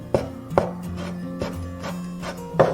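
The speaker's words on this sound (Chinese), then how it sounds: "再准备一些泡好的木耳切丝" A knife chopping soaked wood ear mushroom into strips on a cutting board, several crisp close taps at an uneven pace with no talking.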